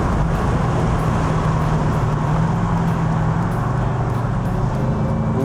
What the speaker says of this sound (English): We can get some burbles on the off throttle